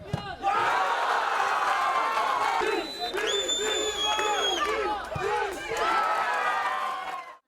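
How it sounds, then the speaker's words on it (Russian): Football fans in the stands during a championship match decided on penalties, a loud, sustained crowd roar with whoops and shouts, rising and falling, as whistles and chanting voices cut through near the middle. "Тем временем трибуны болельщиков не смолкали."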